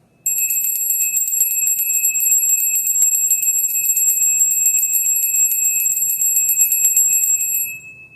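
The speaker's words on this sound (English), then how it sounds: "I'm going to go ahead and ring my bell" A hand bell rung continuously for about seven seconds, a bright, sustained ringing tone that stays loud and steady throughout, then stops abruptly.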